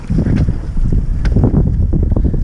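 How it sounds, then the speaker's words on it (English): Strong wind buffets the microphone in a steady low roar while foiling on an Armstrong 1550 foil board over water, loud and continuous with no talk. "Oh, it's windy here."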